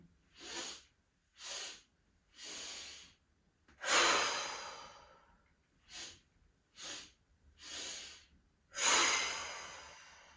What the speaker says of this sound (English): in through the nose, out through the mouth. Okay, so when you're ready, breathe in, and again.